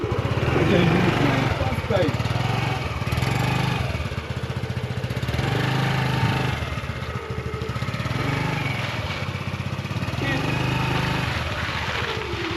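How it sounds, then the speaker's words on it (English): A small motor scooter engine drones steadily and loudly throughout, with wind-like rumble and a voice talking over it, in the Kenyan countryside. "so that is our scooter"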